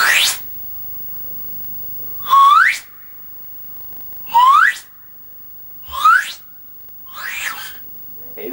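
Ash-wood siglì whistle flute played in short rising chirps, five brief breathy bursts separated by quiet gaps, close and clear.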